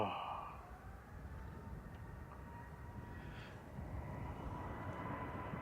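A Jet2 Airbus A321neo taking off from Manchester Airport, its engines a steady, fairly distant roar that swells slightly toward the end of the clip.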